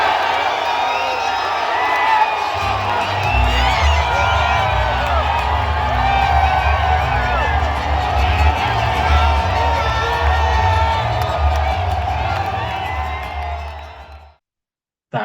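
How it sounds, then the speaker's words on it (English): A large crowd at a FIFA fan festival erupts after a goal, with loud, sustained cheering, whoops and shouting that stay intense for most of the stretch before cutting off abruptly. "seeing Quinones's goal go in and the entire crowd just go absolutely crazy"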